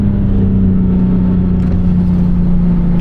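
A tuned Nissan 370Z engine pulls hard on a highway, a steady loud mid-pitched drone heard from inside the car, holding a constant tone under acceleration.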